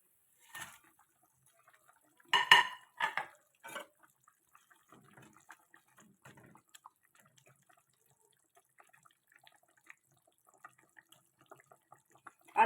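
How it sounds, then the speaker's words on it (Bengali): Shing fish pieces go into a cooking pot for Bengali curry: a few distinct wet plops and splashes come early, then the clip settles into quiet with scattered soft drips and ticks. "বন্ধু, এবার আমি মাছগুলো দিয়ে দেবো।"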